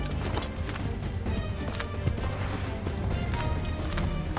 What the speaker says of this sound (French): Fuck le cheval qui s'enfuit, Brenda.